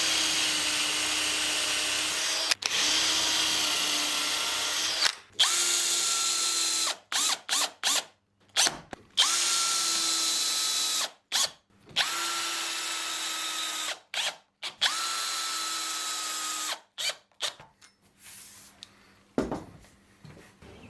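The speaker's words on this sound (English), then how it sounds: "The blue mark on the drill is the depth stop, and that's there purely to stop me from drilling through to the other side." Power drill fitted with a depth stop boring into a wooden gate during a gate build: repeated bursts of steady motor whine, each a few seconds long and separated by short pauses, close and loud with no speech.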